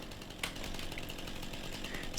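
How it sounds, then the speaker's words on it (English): A chainsaw in the Farming Simulator 25 video game buzzes faintly and steadily for a couple of seconds, a thin distant whine with a brief sharper burst early on. "Let me fly up in the air with my chainsaw."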